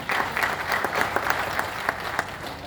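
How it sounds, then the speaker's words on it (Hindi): Audience at an LIC agents' meeting in Agra applauds, a moderate, steady patter of many hands with crisp individual claps standing out, heard without speech. "तो जोरदार तालियां आप लोगों को।"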